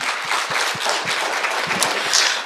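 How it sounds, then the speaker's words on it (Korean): A church congregation bursts into applause during a worship service, a short dense wash of many hands clapping. "하나님께 영광의 박수 올리겠습니다"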